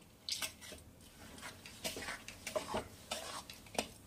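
A spoon stirring jujube pickle with bubbling jaggery in a pan, making close, wet scraping and squishing strokes in an uneven rhythm over a faint simmer.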